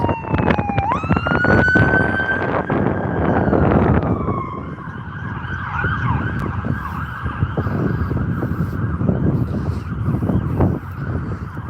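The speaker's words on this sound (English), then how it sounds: "There goes an ambulance." An ambulance siren wails and sweeps past over steady traffic noise on Eglinton Avenue in Scarborough, Toronto, its pitch dropping as it goes by, then keeps cycling more faintly in the distance.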